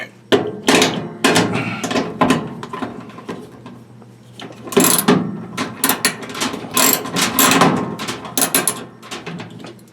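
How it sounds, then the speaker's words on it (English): Short screws being threaded loosely into place during a Maytag Neptune washer pump replacement, giving close, repeated ratcheting clicks in irregular bursts with brief pauses between them. "These are short screws, so it shouldn't take too much to tighten them. I'm just putting them in loosely."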